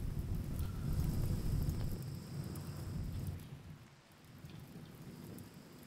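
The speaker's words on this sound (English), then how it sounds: "It's raining again and putting out its fires again." Steady rainfall with rolling thunder in the video game RimWorld, a dense wash of rain holding fairly constant before easing slightly near the end, with no voices.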